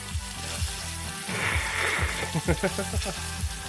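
Sirloin steak, salted with pepper and minced garlic, searing in a hot pan, a loud crackling sizzle with spitting pops, partly under a voice.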